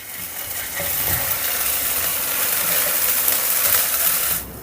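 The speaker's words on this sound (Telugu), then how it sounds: "ఈ అల్లం వెల్లుల్లి పేస్ట్ని ఒక నిమిషం పాటు ఫ్రై చేసుకుందాం" Ginger garlic paste fries in hot oil in a pan, giving a steady, close, bright sizzle that holds evenly for several seconds before cutting off abruptly.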